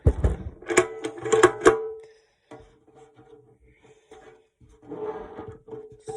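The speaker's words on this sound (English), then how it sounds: "So here's the latch. I can open it too." A latch on a WW2 ammo box being worked open, giving a quick cluster of sharp metallic clicks and clacks at close range, followed by quieter scattered handling knocks and rattles.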